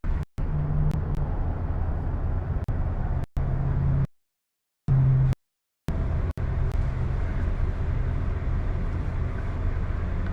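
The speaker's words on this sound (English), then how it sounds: "We're in the middle of a traffic jam. What it sounds like on board." Steady low rumble of a bus interior stuck in a traffic jam, continuous engine drone with a few abrupt cut-outs to silence, no talking.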